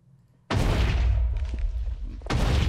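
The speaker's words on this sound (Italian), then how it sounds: "questa è la tua esplosione con la fireball" A fireball explosion in Minecraft bursts in loudly after a quiet start, a booming blast with a rumbling tail, followed by a second sharp boom near the end.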